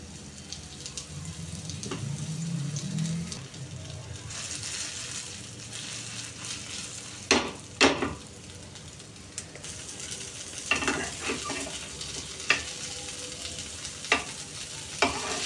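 Mushrooms frying in a little oil in a pan, a close, moderate sizzle broken by repeated scraping and knocking of a stirring spoon at irregular intervals.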